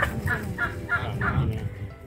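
Turkeys gobbling on a farm, a series of four or five rapid, rhythmic gobble bursts close by, with faint background chatter.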